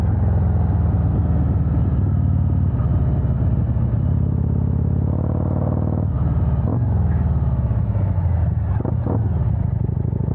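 A 2020 Harley-Davidson Road Glide Special with upgraded suspension rides over bumps, its engine rumbling steadily and loud throughout, with brief clattering jolts and a shift in engine tone midway.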